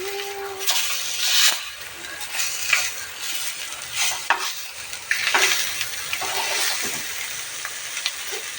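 Bhangda mackerel fries in a pan with little oil, a soft sizzle under repeated scraping and turning strokes of a spatula, with some light clatter of cookware close by.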